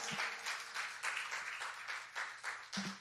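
A church congregation gives God a loud round of applause during a bilingual service, a continuous wash of many hands clapping in pulsing waves, moderately distant, with a faint low tone underneath.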